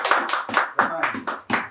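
Hands clap in a church healing gathering, about seven sharp, evenly spaced claps in a quick rhythm, close and loud, with a voice briefly audible between them.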